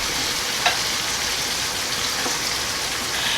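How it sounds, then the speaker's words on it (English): Pot roast searing in a pan, a loud, steady hissing sizzle that fills the whole stretch, with a few faint pops and scrapes and no talking. "I wanted to get the sides seared, so I'm just going to hold it up with a spatula like so"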